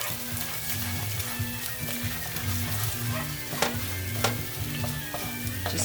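Fried rice with egg and a sprinkle of pepper being stir-fried and mixed in a hot pan, a loud continuous sizzle with scraping and stirring strokes near at hand, no voices.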